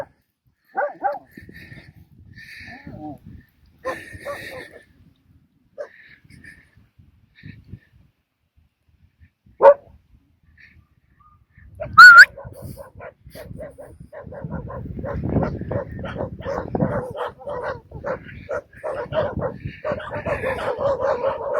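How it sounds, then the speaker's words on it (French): Six puppies yip and whimper in short scattered bursts, growing into a busier chorus of high yelps toward the end. "Il y a 6 petits chiens."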